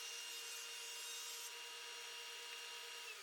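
A glued pine laminated stair board is ripped straight along one edge on a saw for a sliding door frame, giving a steady, loud, continuous whine of the blade cutting wood with no pause and no talk.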